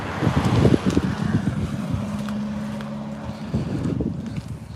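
A dual cab ute drives past on a street, a broad rumbling engine and road noise swelling and fading over several seconds amid wind buffeting on the microphone.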